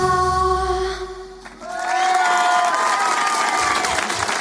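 A live studio audience cheers and applauds after a singer's first live song, with the last sustained sung notes fading before a loud, dense wave of clapping and whoops swells and holds.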